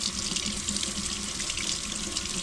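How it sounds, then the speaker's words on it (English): Tap water runs steadily into a sink, rinsing tempera paint off a laser-engraved acrylic piece, a close, continuous splashing stream with no talk. "So I'm gonna go and wash this and see how everything turns out."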